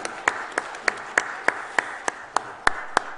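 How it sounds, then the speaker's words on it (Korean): Members of a Methodist church congregation at a Sunday service clap to bless a newly baptized member. The clapping is quiet, slow and steady, with about ten evenly spaced claps in unison over faint room noise. "이 박수로 축복해 주시기 바라겠습니다."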